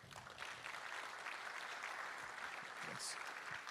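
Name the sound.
audience applause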